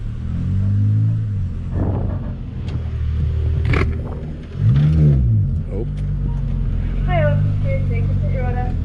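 A Toyota Corolla T-Sport race car rumbles with a loud, low engine note while waiting at a fast-food drive-thru, with people talking over it.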